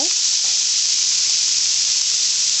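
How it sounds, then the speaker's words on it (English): Meat browning in a hot pan, a steady, fairly loud sizzle that holds evenly throughout with no talking. "the first thing you do is you get your meat browned and ready to go"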